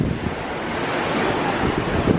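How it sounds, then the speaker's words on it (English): Strong wind buffets the microphone on a cloudy beach, with ocean waves surging and crashing in a broad, continuous roar throughout. "it's cloudy today, really windy."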